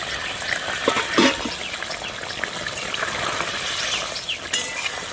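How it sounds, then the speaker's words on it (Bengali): Water is poured over old tamarind to soak it for a sour fish dish, a soft, steady trickle and splash close by in a kitchen, with no talk. "তেঁতুলটা আমি ভিজিয়ে দিচ্ছি।"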